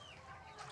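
Chicken clucking softly for under a second, a hen or rooster close by, faint and low with no voices over it.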